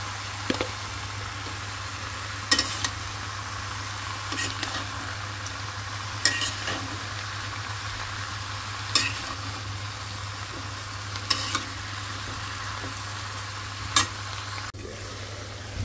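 Vegetables with a little turmeric fry in a pan, a steady soft sizzle under a low hum, with a spatula scraping and stirring at regular intervals of about two seconds.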